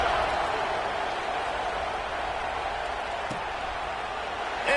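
A college football video game stadium crowd hums and buzzes steadily after a kick-return touchdown, a dense, continuous roar that stays even throughout with a few faint thumps.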